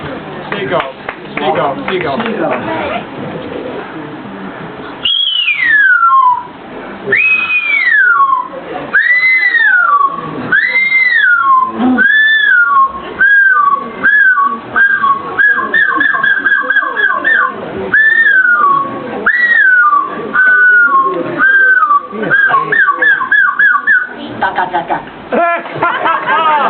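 A performer whistles an imitation of a seagull call in front of an audience, a series of rising-and-falling cries that shorten into quick repeated squeals, preceded by brief talk and crowd noise.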